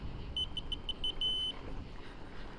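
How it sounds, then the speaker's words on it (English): Horn of a Segway Ninebot Max G2 electric scooter gives a quick string of short, high electronic beeps, then one longer held tone, sounding close against steady road noise during a night ride. "It has turn signals and a little horn. So the little horn is like a beep."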